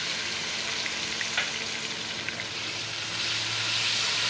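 Garlic-ginger paste and onion paste fry in hot oil, giving a steady, close sizzle with faint stirring clicks and scrapes and no talking.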